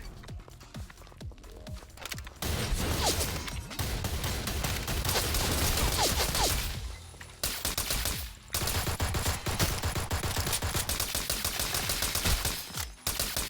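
Gunfire in the shooter video game Black Stigma, with dense bursts of rapid shots and impacts running through most of the clip, loud and close, broken by brief pauses, over game noise.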